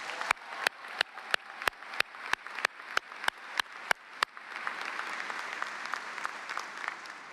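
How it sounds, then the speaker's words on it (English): Applause from a university commencement audience at a Friday morning ceremony, beginning with a dozen evenly spaced sharp claps that swell into sustained, dense clapping from the crowd. "And yes, that deserves a round of applause."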